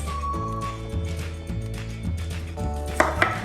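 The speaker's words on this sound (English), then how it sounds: "I'm going to be teaching you guys how to cut this capsicum and also Holland onion into wedges." A knife chops capsicum and onion into wedges on a board, giving a few crisp cuts near the end over a steady hum of kitchen background noise.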